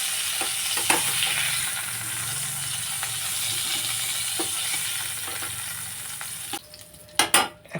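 Potatoes coated in turmeric and salt fry in a pan with a steady close sizzle and occasional scrapes, then quiet down near the end as a few sharp clattering knocks sound.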